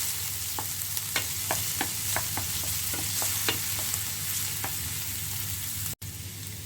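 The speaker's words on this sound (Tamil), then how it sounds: "இப்போ இதை கொஞ்சம் வதக்குவோம்" Curry leaves sizzle steadily in a hot pan while a utensil stirs, with repeated light clinks and scrapes against the metal.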